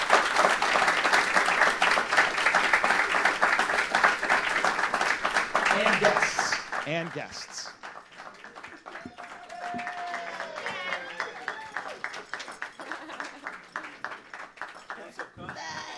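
Loud crowd applause at a live concert in a theater welcoming the artist, strong at first then thinning into scattered claps and murmurs as a voice speaks briefly over it.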